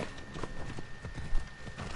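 Steady rhythmic hoofbeats of a galloping horse in the video game Assassin's Creed Odyssey, thudding continuously and fairly close, with a faint constant tone underneath.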